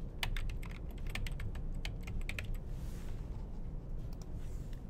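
Rapid typing on a computer keyboard, a dense run of close, crisp key clicks with a brief pause near the middle before a few more taps, no talking.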